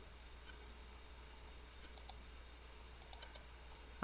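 Sharp computer mouse clicks come while copying, pasting and editing cells in Excel 2013: a single click, then a quick cluster of double-clicks later on, all faint against a quiet room hum.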